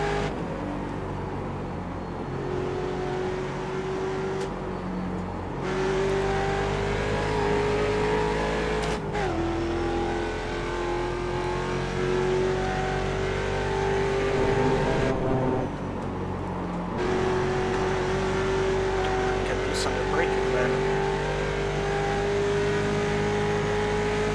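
Ford Mustang race car engine in the iRacing Mustang Challenge at Road America, a loud continuous close drone whose pitch climbs steadily through each gear, broken by brief dips at the shifts, with no talk.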